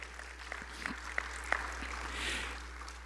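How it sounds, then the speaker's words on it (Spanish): A church congregation claps together, a soft, steady wash of applause with scattered sharper claps that swells briefly near the end, sounding somewhat distant and fairly quiet. "Dale un aplauso de gratitud al Señor."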